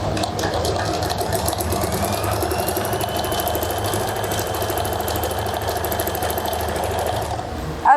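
A sewing machine stitches a trouser seam, running in a continuous fast mechanical clatter from start to finish, close and fairly loud.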